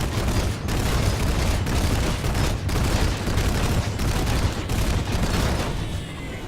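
Full-auto gunfire from an ESF aircraft in a video game, loud, dense, continuous bursts of rapid shots with brief gaps roughly every second, heard alone without talk.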